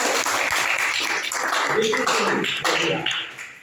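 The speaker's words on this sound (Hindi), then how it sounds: "हाँ तो इनके लिए जोरदार तालियां हो जाए।" A classroom of students applauds a classmate, dense steady clapping filling the room for a few seconds before tapering off at the end.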